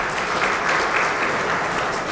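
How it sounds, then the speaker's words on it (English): A crowd at a funeral eulogy gives a warm round of applause, a dense, even wash of clapping that holds steady throughout. "So big round of applause for those who have travelled."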